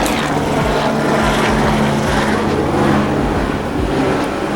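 Loud, steady helicopter rotor noise, a continuous throbbing roar with rapid low thumping, close and dominating throughout.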